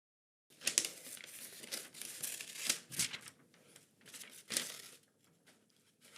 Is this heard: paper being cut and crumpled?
yes